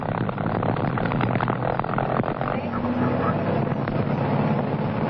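A propeller aircraft's engine runs steadily at 2100 RPM, a continuous loud drone with wind buffeting heard from inside the cockpit, while a voice talks over it.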